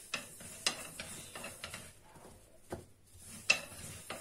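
Gözleme dough being rolled out by hand on a floured surface at home, with soft rolling thuds and scattered taps in an irregular rhythm, fairly quiet and close, with no talking.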